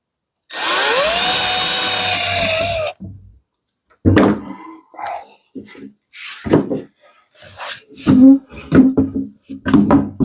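A power drill bores into a van's bed frame, one loud, steady whine of about two seconds, followed by someone talking close by.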